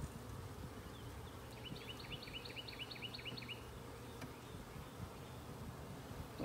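Honey bees buzz steadily at a beehive entrance, a close, continuous drone with a few higher passing whines from individual bees flying near, without talk.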